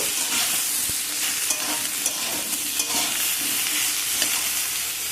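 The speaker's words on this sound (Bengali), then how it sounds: "খুলে আবারও সব কিছুকে একটু নাড়াচাড়া করে নেব" Spinach with other vegetables sizzling loudly in a pan as a spoon stirs and scrapes through it, close up with a dense, steady frying hiss and occasional clinks.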